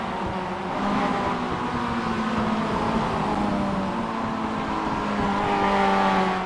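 A Mazda MX5 production race car in iRacing at Oulton Park, its engine droning steadily at high revs close up, with slight rises in pitch as it accelerates, no talking.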